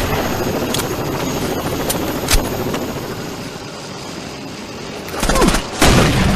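Gunfire in an animated action show during a chase toward a residential area, with scattered sharp shots over a constant engine-like roar and a louder burst of shots near the end.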